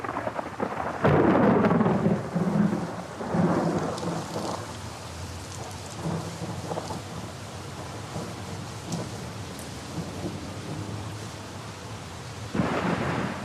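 A thunderstorm with heavy rain: a loud close thunderclap rumbles early and slowly fades under steady rainfall pattering on surfaces, then a second crack of thunder breaks near the end.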